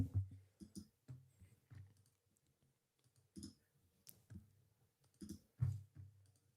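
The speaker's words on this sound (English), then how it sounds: "A lot of clicking going on, not a lot of talking." A computer mouse clicks in scattered, crisp bursts close to the mic, some single and some in quick pairs, with long quiet gaps and no talking.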